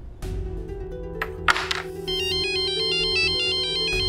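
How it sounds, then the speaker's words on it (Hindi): An electronic phone ringtone for an incoming call plays a repeating melodic pattern, loud and close, over a steady low hum, with a few brief knocks early on and no talk. "अरे यार, आकाश का फोन, ये जरूर पैसे के लिए कॉल कर रहा होगा।"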